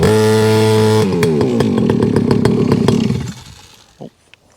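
A Rebo quad bike ATV's small engine revving high with a loud buzzing whine right after the ignition is switched on, then sputtering and dying away within a few seconds, followed by a single soft knock.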